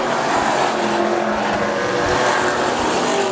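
AMCA race car spinning out at Rockhampton Speedway, tires squealing over a steady roar of racing engines at a loud, continuous level.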